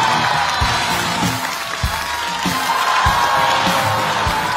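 A live studio audience at a Chinese stand-up comedy show applauds and cheers, a dense continuous wash of clapping with scattered low thumps and whoops, loud and close, with no speech over it.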